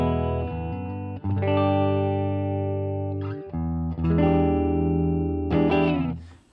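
Clean electric guitar through a Marshall DSL1CR 1-watt amp: ringing, sustained chords and single notes played near and alone, with brief gaps between strummed phrases.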